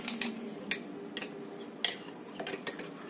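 A spoon clinks and scrapes around inside a bowl or glass, stirring an instant yeast mixture for pizza dough, with quick irregular taps of metal on the sides, close by and fairly soft.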